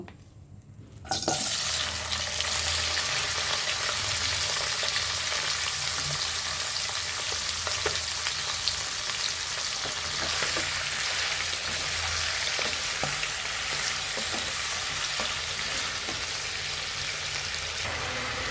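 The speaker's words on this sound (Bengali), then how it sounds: "কবিতরের মাংসটা এখানে তেল দিয়েছি কবিতার মাংসটা একটু সামান্য ভেজে নেব" Pigeon meat fries in hot oil in a pan, giving a loud, steady sizzle that starts abruptly and holds for the whole stretch, with faint stirring scrapes and no talking.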